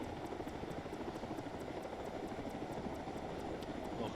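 A Black Hawk helicopter in flight in a military video game, its steady rotor and engine roar holding loud and constant with a faint rhythmic blade chop high above, no one speaking.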